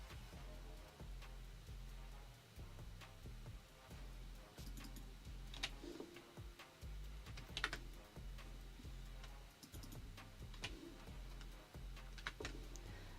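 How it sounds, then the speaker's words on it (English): A computer keyboard is typed on in a steady run of close, soft clicks and taps, with a low hum underneath and occasional sharper key presses, with no talk. "The soothing sound of clicking my keyboard."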